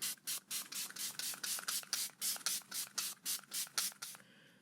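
A spray bottle spritzes about fifteen quick, even hissing bursts in a steady rhythm, close and soft, then stops.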